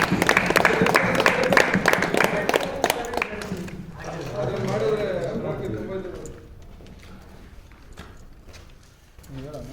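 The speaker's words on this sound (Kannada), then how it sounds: "ಬರ್ಲಿ ಚಪ್ಪಾಳೆ" Clapping hands break out on a film set during a movie shoot: a run of sharp, rhythmic claps over the first few seconds, then fading under voices talking nearby.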